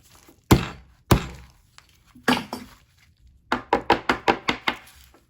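Cracked glass on a Motorola E5 Plus (2020) phone is struck and broken: a few sharp isolated cracks and thunks, then a rapid run of six or seven hard snapping hits, close and loud.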